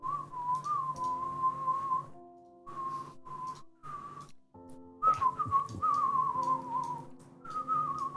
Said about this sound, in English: You're not even whistling in time with the music.